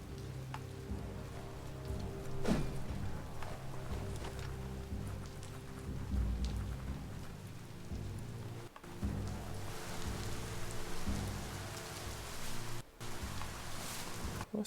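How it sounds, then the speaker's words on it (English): Rainfall in the video game Biomutant, a steady broadband hiss of rain with occasional deeper rumbles like distant thunder, continuous with no voices. "Might want to look for shelter from the rain."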